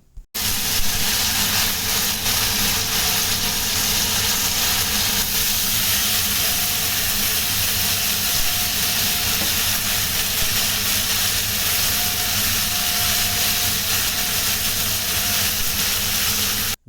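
Tomatoes, tamarind and coriander sizzle in hot oil for a tomato pickle, a steady dense hiss and crackle running evenly and loud throughout with no talk.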